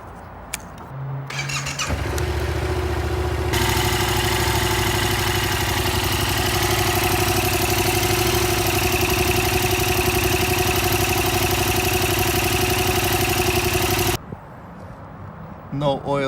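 A Yamaha FZ-07 motorcycle just back from an oil change cranks and catches, then idles steadily and loudly close by for about ten seconds before shutting off, leaving quiet room tone and a faint clatter.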